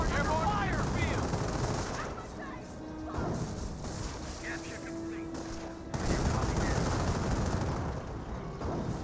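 World War II real-time strategy battle in Company of Heroes with a Hummel artillery piece and a mortar half-track: dense, continuous gunfire bursts and impacts layered over a steady battle din, with a commentator speaking throughout.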